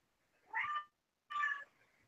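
A cat meows twice, close and clear, each call about a third of a second long with a short silent pause between them in an otherwise quiet room.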